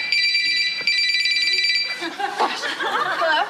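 An old telephone bell rings in short repeated bursts, loud and near, then gives way to chuckling and scattered voices.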